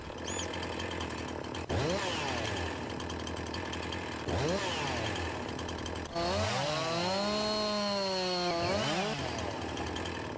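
A chainsaw in Farming Simulator 2019 cutting through a tree in woodland, its engine droning steadily close by and rising into repeated high whining revs as each cut bites, with a long sustained cut near the end.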